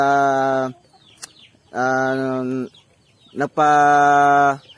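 Chickens on a farm, three long, drawn-out calls with short clicks and a brief chirp in the gaps, heard close and clear.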